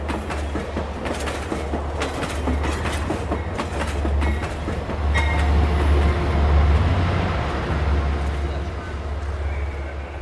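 Loud, steady rumble of a passenger train running overnight toward Puri, with rhythmic clickety-clack of wheels over rail joints swelling midway and continuing throughout, a voice faintly present beneath it.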